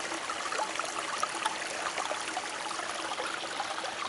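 A small stream flowing in Izmailovsky Park, an even, continuous rush and trickle of water heard close up and fairly loud, with no voices.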